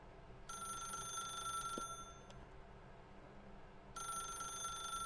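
An electronic phone in The Stanley Parable rings in two trilling bursts separated by a quiet pause, clear over a low hum with no speech.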